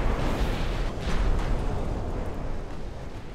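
A flash fire explosion tears through a battlecruiser in the naval strategy game Ultimate Admiral: Dreadnoughts, producing a loud, dense rumbling roar that holds steady for a few seconds without a sharp single crack.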